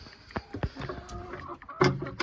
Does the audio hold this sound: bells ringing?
no